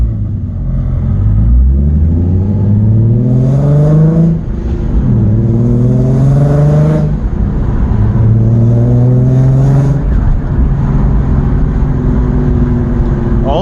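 Nissan 350Z is driven hard after an exhaust rattle fix, its loud, close exhaust note rising through the gears in repeated revving climbs, each one cut by a shift, over a constant road rumble.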